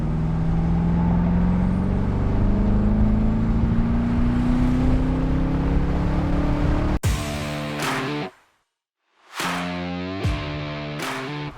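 A 2003 Corvette 50th Anniversary Edition V8 idles with a steady low drone, then is blipped sharply toward red line in loud rising bursts, drops briefly to near silence, and revs hard again in repeated close-up pulses.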